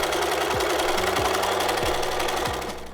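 A sewing machine running steadily as it stitches a bag strap seam, with a fast, even mechanical chatter and a few low thumps, close and loud with no speech.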